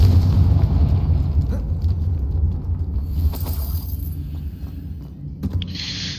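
A Confringo blasting spell bursts in the Hogwarts Legacy video game, a deep rumbling explosion that rolls on steadily with low booms and a few crackling pops, loud and continuous throughout.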